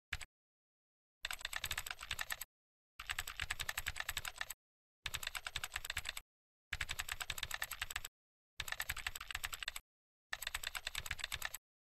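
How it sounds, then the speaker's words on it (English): A computer keyboard typed on in quick runs, close and crisp: a single tap first, then six bursts of fast keystrokes with brief silent gaps between them and nobody talking. "Let's start typing."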